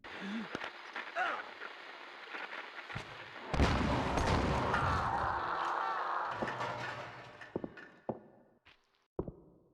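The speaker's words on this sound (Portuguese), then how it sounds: "Oxe, que shotgun é esse? Dá 2 tiros só?" A double-barrel shotgun fires in Silent Hill: Origins on PS2, a loud burst with a sustained rumbling tail, set among scattered footsteps and short clatters. A voice is briefly heard.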